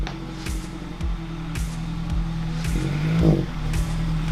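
Car fitted with a newly installed CAE Ultra Shifter, driving with a steady low engine drone, periodic thumps and a brief rev swell near the end, loud and close with no talk.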